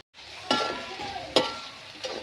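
Onions, ginger and shallots sauté in a pan for a chicken roast, a steady close sizzle broken by three sharp scraping stirs of a spatula, with no voices.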